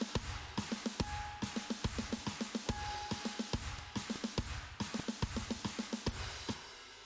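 Produced electronic drum mix with kick, clap and snares panned left and right, playing a steady punchy looping pattern of sharp, evenly repeating hits with no voices.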